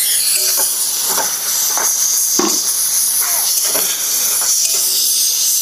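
Onion and garlic frying in a pan: a loud, steady sizzling hiss, close up, with a few soft clinks and stirring knocks and no talk.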